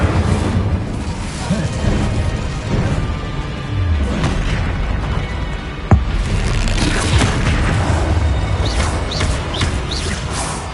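Incendio fire spell cast in combat in Hogwarts Legacy, heard as steady crackling, booming blasts and bursts throughout a busy fight, with a sharp impact near the middle.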